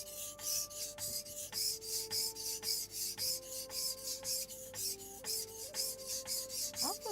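A steel blade is drawn across a whetstone in regular rasping strokes, about two or three per second, close and fairly quiet with no talking.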